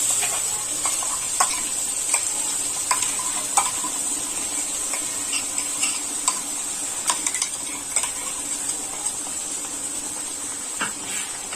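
Ground masala paste for Puneri misal sizzles in a pan while being stirred, with a constant frying hiss and repeated close scrapes and taps of the spoon against the pan.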